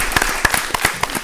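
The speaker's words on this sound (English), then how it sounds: "I think we can have a round of applause for them." Sparse, scattered clapping from a small audience at a GST quiz competition, several distinct claps spread irregularly over a brief moment, with no talk.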